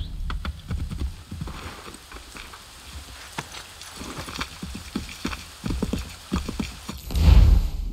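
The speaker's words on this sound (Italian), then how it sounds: "Cavallo abbandonato." Horse hooves from the video game Assassin's Creed 3 Remastered clop in a steady, uneven trot, close and fairly loud over faint rain, ending with a heavier thudding burst.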